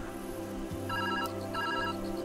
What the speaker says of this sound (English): I'm happy with the phone ringing.